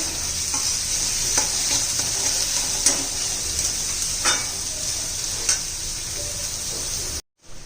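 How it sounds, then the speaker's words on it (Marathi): Two finely chopped onions fry in a pan while being stirred, giving a steady loud sizzle with occasional spatula scrapes and taps, then a brief cut near the end. "मग बारीक चिरलेला कांदा घालायचा आहे मी दोन कांदे बारीक चिरून घेतलेले आहेत"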